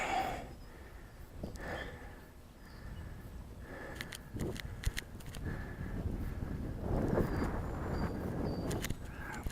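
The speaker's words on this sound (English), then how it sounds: "It's windy." Low, rumbling wind noise buffets the microphone throughout, with a few faint scuffs and clicks outdoors.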